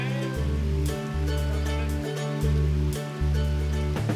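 River flowing beside a campsite during a Salute Siachen expedition, a steady close rush of water with a low broadband roar and no voices.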